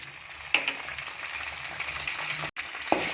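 Curry leaves and chana dal sautéing in a pan, a steady close sizzle of frying with a couple of sharper pops and stirring scrapes, no talk.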